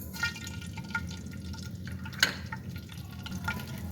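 Cumin seeds sizzle and crackle in about two tablespoons of hot oil for a tempering, a low steady fry with light pops and a brief clink.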